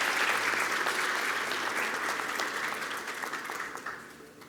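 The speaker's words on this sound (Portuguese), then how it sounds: "Uma salva de palmas de todos para a nossa nova comissão administrativa" An audience applauds the new administrative commission at a formal swelling ceremony in Brazil: dense, sustained clapping that gradually fades out.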